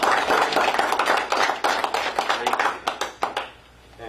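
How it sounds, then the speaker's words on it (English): A township meeting audience applauds a retiring village fireworks organizer, with dense, steady clapping that tapers off and fades over the last half second. "I'd like to give him a round of applause"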